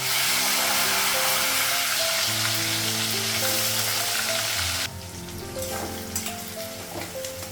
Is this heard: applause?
no